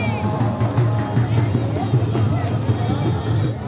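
Dense crowd babble fills the Sukma Raj Madai fair in Sukma district, a steady murmur of many nearby voices with close talk layered over it.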